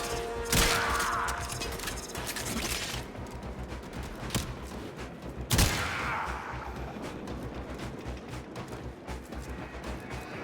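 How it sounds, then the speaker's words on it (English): An assault rifle in Warframe fires in rapid bursts, with sharp cracks at the start and a louder report midway over a busy din of game effects and clatter. "Like even what I'm doing with this assault rifle, where I'm just kind of aim shoot."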